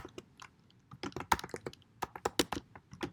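Someone types rapidly on a computer keyboard, producing a quick, irregular run of close, light key clicks and taps in a quiet room.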